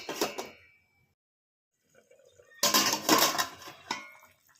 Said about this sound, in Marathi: झाकण ठेवूया वरून